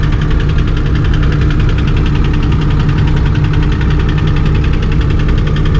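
A vehicle engine runs at idle close by, making a loud, steady mechanical drone with a fast, even knocking pulse that continues unbroken throughout.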